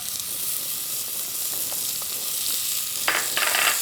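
Diced celery cooks with browned Polish mushrooms in a pot, giving a continuous close sizzle and frying hiss. A few short stirring scrapes come near the end.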